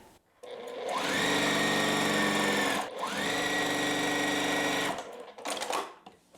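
A sewing machine stitches quilt star points in two long runs of rapid, steady whirring that ramp up at the start, loud and close, followed by a few short bursts.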